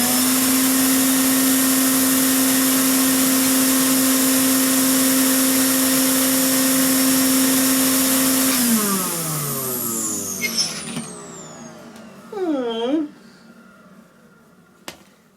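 A Hoover Constellation 867A vacuum cleaner runs with a loud, steady whine and hum for about eight seconds, then winds down with a falling pitch, followed by faint handling knocks.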